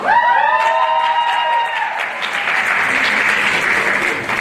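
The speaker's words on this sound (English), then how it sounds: "Round of applause for Aaron's lovely spirit outfit." Audience applause at the Mr Hoosac 2022 high school pageant: a held musical tone fades after about two seconds as loud, steady clapping from the crowd takes over.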